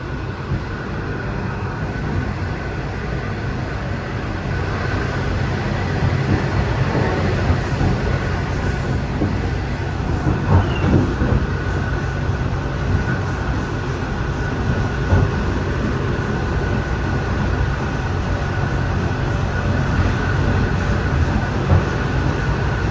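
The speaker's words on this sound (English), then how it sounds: "The N-Set's one of the best trains I've got left in V-Line." Riding aboard a V-Line N-Set train between Swan Hill and Bendigo, a constant loud rumble of the carriage fills the scene, with steady rolling noise and occasional faint clicks of the wheels over rail joints.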